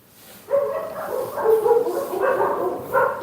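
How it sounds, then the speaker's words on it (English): Dogs bark loudly and close by in a quick run of repeated barks and yips, with no talk over them. "The dog's went crazy."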